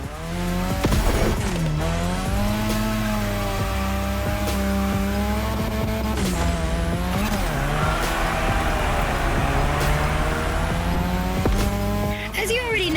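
A car drifts around a drift track in The Crew Motorfest, its engine droning steadily with rising and falling revs and tire squeal mixed in, loud and continuous, with a voice talking over it.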